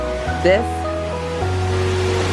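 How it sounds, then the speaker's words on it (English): Copper Creek Falls, a waterfall at the Wilderness Lodge, pours steadily beneath a bridge. Its continuous broad rushing hiss fills the scene while a nearby voice briefly speaks over it. "comes down to this beautiful waterfall, and it continues down going under the bridge"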